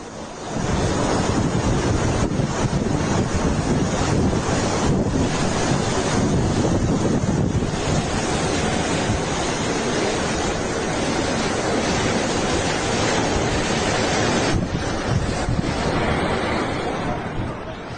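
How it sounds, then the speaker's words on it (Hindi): Strong winds of Cyclone Dana lashing the Odisha coast, a loud, unbroken roar of wind buffeting the microphone, mixed with crashing surf, steady throughout with slight surges. "हवा की रफ्तार देख रहे हैं, उसकी आवाज सुन रहे हैं।"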